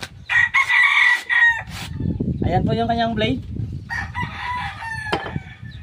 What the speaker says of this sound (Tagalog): maingay po yung ating mga manok. Nakikisabay po sa ating vlog